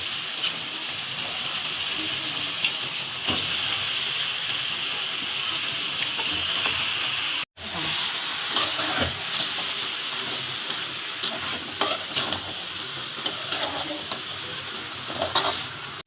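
Quail frying in a pan with onion, tomato, ginger and garlic, giving a continuous close sizzle and hiss with scattered pops and a brief dip partway through.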